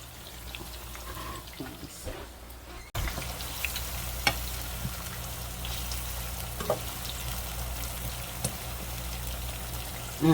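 Potatoes, onions and backyard garden vegetables fry in a pan with a steady, close sizzle, a sharp jump in loudness a few seconds in, then continuous crackling dotted with small stirring clicks and pops.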